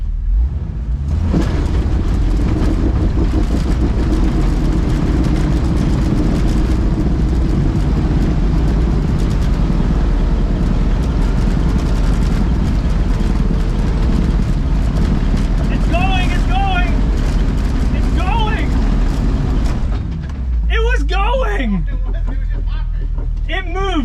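A Jeep crawls in gear along an off-road trail at Windrock, its engine a loud, steady low drone throughout, with voices talking over it near the end.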